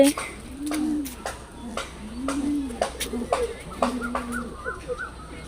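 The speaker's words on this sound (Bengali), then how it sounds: "চলুন দেখি কবুতরগুলো ওরা কি করছে" Pigeons in a coop being rebuilt after a storm coo repeatedly in low, rolling calls at close range, with scattered chirps and light background noise between them.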